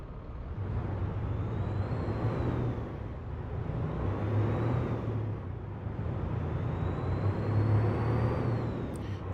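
A heavily loaded American Truck Simulator semi hauling a 100,000-pound load pulls away in second gear, its engine droning low and steady, swelling and easing in a continuous loud rumble with no talk.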